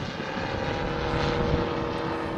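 Giant-scale RC model Focke-Wulf Fw 44 Stieglitz biplanes flying, a steady loud propeller-engine drone that stays continuous and even, with no voices.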